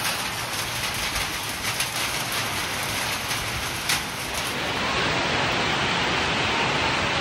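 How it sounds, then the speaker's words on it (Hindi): Torrential rain with hail hammering down on the Vaishno Devi pilgrimage route, a thick, loud, continuous roar of drops with a few sharper hits, close and steady throughout. "बहुत तेज बारिश हो रही है"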